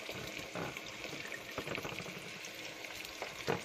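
Vegetable sauce bubbling and frying in a pan, a steady close sizzle with occasional soft stirring knocks and spatters, with no voices over it.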